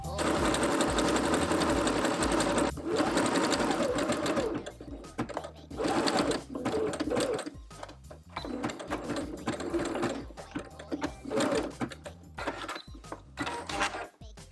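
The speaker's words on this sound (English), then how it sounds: "And so top stitch from the side, you'll see this nice little scallop along the edge." A sewing machine runs a zigzag top stitch along a fabric edge, a busy rattling hum that is steady at first and then breaks into short, choppy runs, close and fairly loud.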